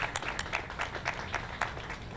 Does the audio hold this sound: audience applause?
yes